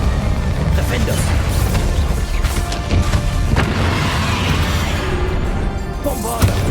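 Bombarda spell in Hogwarts Legacy blasting in combat, loud booming crashes over continuous dense battle noise, with a voice speaking throughout.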